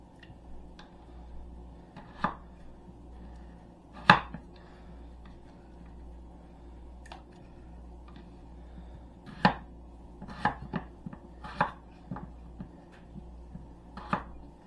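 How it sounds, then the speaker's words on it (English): A knife chops potatoes into wedges on a cutting board, giving sparse, irregular thuds and clicks at close range over a quiet background hum, with no talking. "it does not even taking that long to cut these potatoes"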